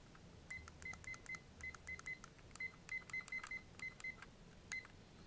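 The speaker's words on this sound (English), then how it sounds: "I've got a timer here that I can set." A run of short electronic beeps comes from a timer being set, quick single and double chirps in irregular bursts, faint and close against a quiet background.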